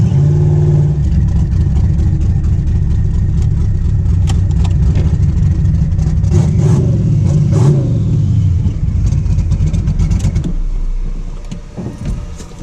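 Twin-turbo tunnel-ram Chevy Nova engine runs on a dyno, a loud sustained rumbling roar with surges in revs, then easing off and fading toward the end.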